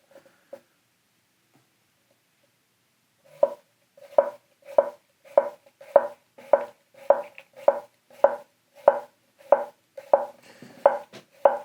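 A knife slices through food on a cutting board, comparing how different blade grinds release the pieces, giving about thirteen evenly spaced crisp cuts after a single early tap and a pause.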